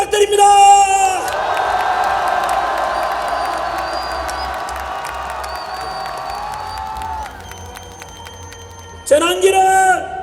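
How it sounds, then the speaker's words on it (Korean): A rally crowd bursts into loud cheering and whoops, settles into a long sustained roar, then erupts again in a second burst of shouting and applause. "박수를 부탁드립니다"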